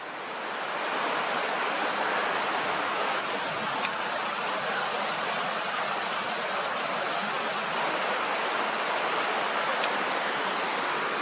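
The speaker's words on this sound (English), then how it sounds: "you got the enchanting little river there, look" A small river flows with an even, broad rushing hiss, steady and fairly close for the whole stretch, with no one speaking.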